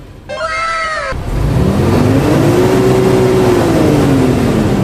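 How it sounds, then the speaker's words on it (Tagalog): An Isuzu 6HK1 diesel engine with low power and heavy smoke revs up after a brief high meow-like cry, its loud drone climbing steadily in pitch, holding, then easing slightly. "Siyempre, mag-RPM tayo dito para mas malaki mabayaran ang tagiya."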